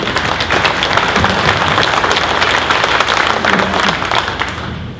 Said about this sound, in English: Let's give you guys a round of applause